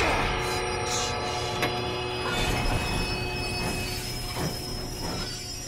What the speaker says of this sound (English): So this is just a cargo train, not really one of those passenger ones, right?